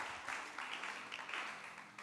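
A church congregation applauds during a thanksgiving-week service, a steady wash of clapping that swells and recedes in waves for about two seconds, moderately loud and fairly close, with no voices over it.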